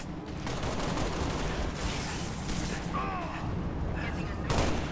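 Rapid gunfire in Halo Reach rattles almost continuously, dense and loud, with brief whistling effects and a final sharp burst near the end.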